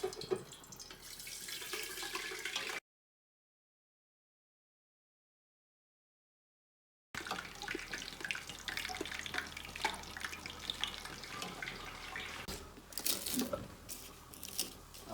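Melted beef tallow poured through a sieve into a container, a steady close liquid pour with faint splashing and trickling that pauses partway through and then runs on.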